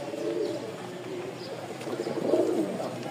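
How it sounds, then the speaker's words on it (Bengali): A male pigeon from Rajshahi coos inside a new cage, repeated low, throaty calls in a slow rhythm, close by, with a louder coo near the end. "এই দেখেন নরের ডাক"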